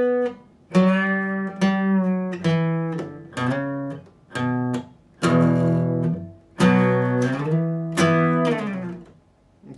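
A guitar slowly plays the second part of the intro to a song, a run of separate plucked notes and chords, each ringing out before the next, clear and close with no voice.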